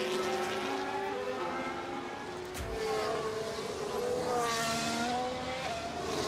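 Race cars from F1 Manager 24 on the Mexico City circuit whine past with a sustained high engine note that rises and falls as several cars go by, heard alone at moderate volume.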